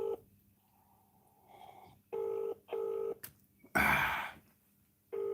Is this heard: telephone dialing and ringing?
yes